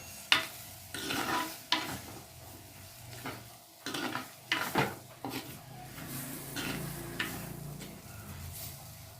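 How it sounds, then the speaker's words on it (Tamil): Finely chopped coconut sautéed in a pan for ennai kathirikai gravy: soft sizzling broken by repeated scraping, stirring strokes of a spatula, close by, with no talking. "கூட பொடியை நறுக்கி வச்சுருக்க தேங்காயும் சேர்த்து வதக்கிக்கோங்க"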